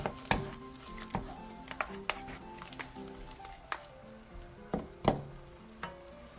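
Korean fish cakes stir-fry over medium-low heat in a sauce of water, plum extract, soy sauce, corn syrup and chili flakes, with a soft continuous sizzle broken by sharp spatula clacks against the pan.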